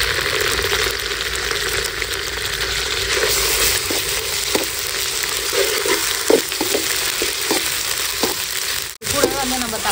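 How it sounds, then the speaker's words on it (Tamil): Ginger and garlic sizzle with softened onions in a pan for a country chicken thokku, a loud continuous fry broken by repeated scraping strokes of a stirring spoon, with a brief clatter near the end. "இது கூட வந்து நம்ம இஞ்சி பூண்டு சேர்த்துக்கலாம்."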